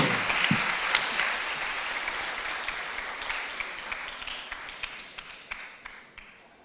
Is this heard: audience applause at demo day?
yes